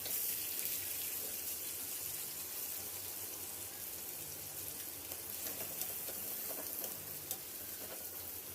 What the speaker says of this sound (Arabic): هحط بقى الطاسة عشان خاطر اجلي البطاطس طبعا الاول